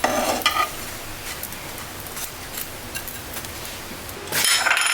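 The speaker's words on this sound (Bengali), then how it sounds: "দুই পিঠ আমি হালকা করে ভেজে নিব, তারপর তুলে ফেলব।" Chicken burger patties fry in a pan with a steady, close sizzle, joined by brief clinks of utensils and a louder burst of stirring at the end.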